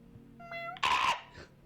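A voice imitates a cat with a single short meow that rises into a louder, strained yowl, close and alone.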